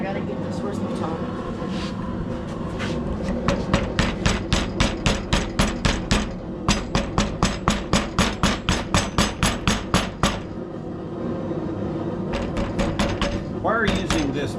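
Hot forged metal is struck with a baton on a drive-in hook, a fast series of ringing metallic blows in two bursts over a steady background hum, with a pause between them.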